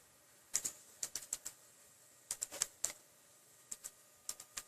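Typing on a computer keyboard, with sharp clicky keystrokes coming in quick bursts separated by short pauses, close and fairly quiet.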